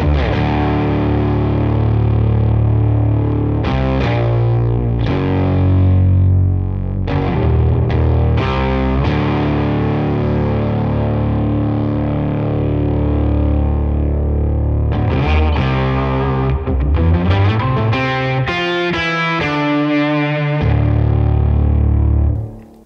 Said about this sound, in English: So this is a bass synth going on and it sounds like an octava